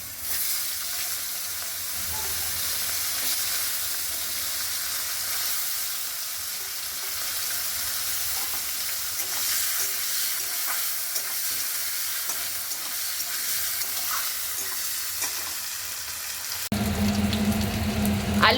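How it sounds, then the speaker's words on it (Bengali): Potatoes drop into hot oil tempered with nigella seeds, producing a loud, steady sizzle with busy stirring scrapes that runs throughout, then a sudden louder burst of hissing near the end. "এখন আলু ছেড়ে দেবো।"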